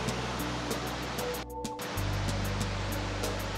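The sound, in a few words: waterfall from water flowing out of a cave at Wawa Dam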